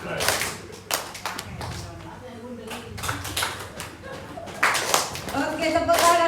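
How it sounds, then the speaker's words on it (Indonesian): A group claps hands in a classroom-style session, sharp bursts of claps that come and go in waves, fairly close, with voices talking between and over them. "Oke, tepuk tangan untuk kita semuanya."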